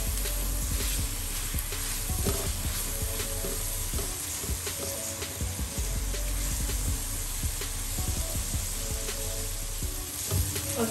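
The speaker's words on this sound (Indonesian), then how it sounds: "Aduk terus ya mam, sampai dia benar-benar masak dan minyaknya juga naik atas." Leftover duck gulai frying in oil as it is stirred in a pan with lemongrass and bay leaves, a steady close sizzle with scraping stir sounds throughout, no talking.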